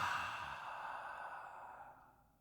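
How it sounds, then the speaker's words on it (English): A single deep breath, a long breathy exhale that starts strong and slowly fades out, close and alone with no talk. "Let's take a deep breath."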